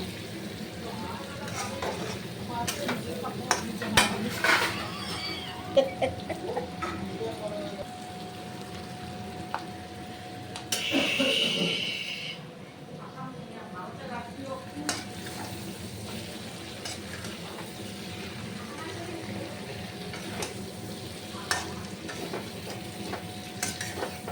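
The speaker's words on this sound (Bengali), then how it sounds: "এখন আমি এটাকে কষাচ্ছি।" Raw jackfruit curry with spices sizzles steadily while being sautéed in a pan, with a constant frying hiss, intermittent spatula scrapes and stirring clatter, and one louder burst of sizzling midway.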